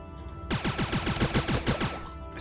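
Rapid pistol shots in the video game Starbound, about nine sharp reports fired in a quick steady rhythm, loud and close, with no talking over them.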